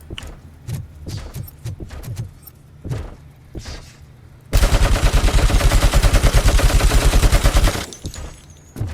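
Gunfire in Robocop Rogue City: several scattered single shots come first, then a loud, fast, sustained automatic burst lasting about three seconds, close and dominant.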